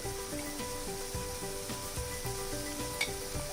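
Mutton keema cooking with spices and tomato in a pan sizzles steadily at moderate level, with a low hum underneath and an occasional soft stirring knock.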